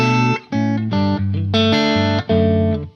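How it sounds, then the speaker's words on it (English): Electric guitar through a Marshall amp simulation, played as loud sustained distorted chords with short gaps between them, with a quick slapback room reverb. "that's a room reverb, right? A quick slapback room reverb, which makes it sound more like an amp in the room."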